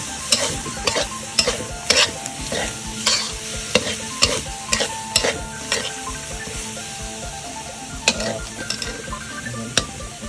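Sizzling oil over high heat with repeated clanks and scrapes of a utensil stirring spicy field-frog stir-fry in a pan, close up, rhythmic strokes every second or so.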